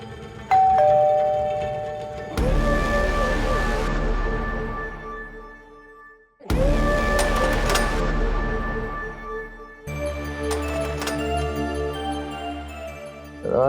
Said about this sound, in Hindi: एक बार और बजाओ।